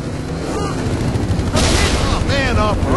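A detachable gun turret in Halo 3 fires rapid loud bursts on an alien camp, heavy shots pounding near and continuous, with in-game battle noise and voices underneath.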